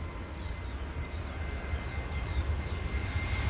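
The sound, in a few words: airliner taking off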